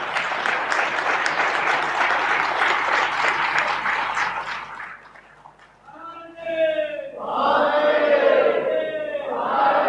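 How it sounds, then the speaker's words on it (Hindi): Loud audience applause fills a spiritual satsang hall for about five seconds, then fades and gives way to wavering, wailing voices. "तालियां भैया, तालियां।"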